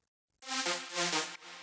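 A bright, buzzy sawtooth synth lead plays a short phrase of a few sustained notes, fairly loud and alone, after a brief silence.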